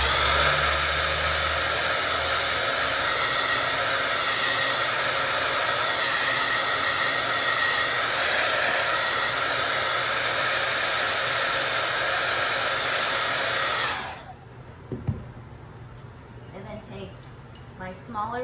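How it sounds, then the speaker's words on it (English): A hair dryer blows paint dry on a craft frog, a loud, steady whirring roar close by for about fourteen seconds before switching off, followed by quiet handling clicks and a brief clunk. "Okay, I'm gonna blow it dry."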